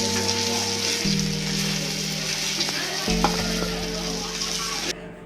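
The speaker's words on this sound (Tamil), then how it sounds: "நம்ம இப்போ ஃப்ரை பண்ணி எடுத்துக்கிட்டோம்" Spiced ayila (mackerel) fish shallow-frying in hot oil crackles loudly and continuously at close range, with a low steady hum beneath the sizzle.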